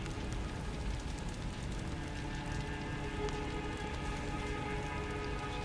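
Steady crackling ambience at Redmane Castle in the video game Elden Ring, a dense, even hiss of tiny pops and patters like fire or rain, constant throughout with no speech.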